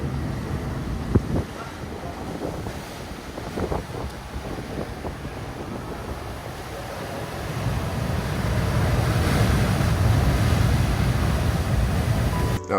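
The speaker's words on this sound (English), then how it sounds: "a great surround sound of waves breaking the shore, especially on a day when the sea seems a bit miffed with a strong wave" Waves breaking on the shore beside a castle in Sicily, a rough sea with strong surf giving a broad, continuous wash that swells louder in the second half, with wind buffeting the microphone.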